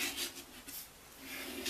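A folded paper card is burnished flat for a giant greeting card, giving a soft, steady rubbing scrape that runs close and quiet for under two seconds.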